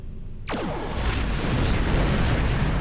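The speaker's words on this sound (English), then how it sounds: "One torpedo should be enough to send a message." A ship's torpedo launches in the Star Trek Online space game, a sudden loud boom swelling into a sustained roaring blast that fills the rest of the moment without any talk.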